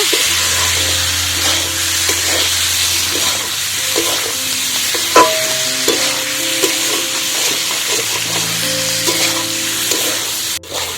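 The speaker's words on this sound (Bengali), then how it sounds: "এবার এর মধ্যে দিয়ে দেবো পরিমাণ মতো চিনি দিয়ে আলুটাকে ভালো করে কষিয়ে নেব" Potatoes sauté with sugar in a hot pan, sizzling continuously while a utensil stirs and scrapes against the pan in short bursts.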